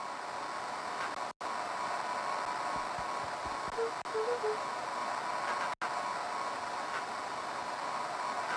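Steady hiss of walkie-talkie radio static fills the whole stretch, cut by two sharp dropouts, with a few faint blips and thumps buried in the noise.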